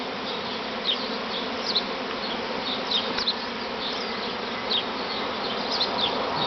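A large swarm of honey bees drones in the open air near a veranda, a dense continuous buzz with individual bees zipping close past now and then in short rising whines.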